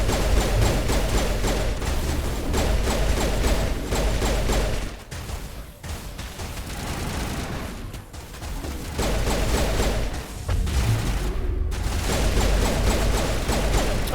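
Sustained gunfire during a shootout in Mass Effect, dense continuous shooting and clatter that briefly drops away twice before resuming loud and close.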